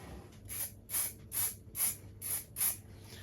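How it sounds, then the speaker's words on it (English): Six short bursts of aerosol spray hiss in a steady rhythm, close and fairly quiet, with brief pauses between each squirt. "I'm going to spray from above."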